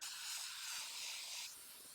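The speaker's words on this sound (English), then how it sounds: "I really like 3M Super 77. It's just my favorite spray adhesive." 3M Super 77 spray adhesive hisses from an aerosol can in one steady burst lasting under two seconds, close and fairly quiet, with no talk over it.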